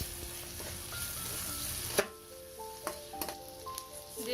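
Onions and green chillies fry in mustard oil in a pan, a steady hiss with scattered pops and faint utensil clinks, close and moderately quiet, no voices.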